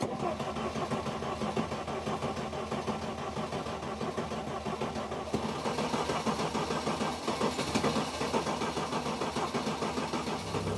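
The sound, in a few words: car engine struggling to start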